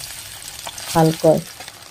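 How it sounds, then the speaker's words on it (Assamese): Fish frying in hot oil for a tomato fish curry gives a soft, steady sizzle, with two brief louder bursts of crackling near the middle. "অইন মাছকেইটাও মই এনেদৰে ভাজি ল'ম"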